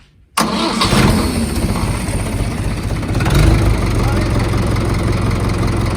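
A tractor engine cranks and catches after a brief silence, then settles into a loud, steady low rumble with a slight rise midway, close by.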